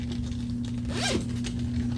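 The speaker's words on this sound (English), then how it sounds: "main zipper, open" The main zipper of a smell-proof sling bag is pulled open in one quick, raspy stroke, close up against faint room hum.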